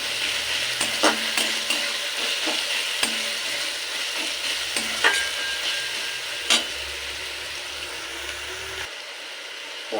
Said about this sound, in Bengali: আদা আর রসুনের পেস্টটা পেঁয়াজের সাথে ভালো করে কষিয়ে নিতে হবে যাতে কাঁচা গন্ধটা চলে যায়